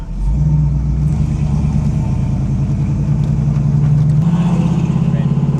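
A 1967 Chevrolet Camaro convertible, fully restored, cruises at speed with a steady low engine drone and road rumble that swell slightly mid-run, heard from inside the open car while people talk over it.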